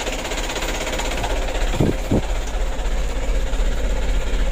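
An engine idling steadily at about 550 RPM, troubled by jelly-like oil sludge and hard starting, gives a continuous close rumble with two brief knocks near the middle.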